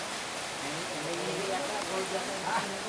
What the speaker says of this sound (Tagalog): Nako, lumakas ang ulan.